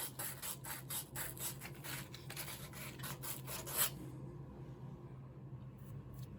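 A tool scrapes the swing arm joint of a vintage Honda CL350 motorcycle in quick, repeated close strokes for about four seconds, then the sound drops to a quiet background hum.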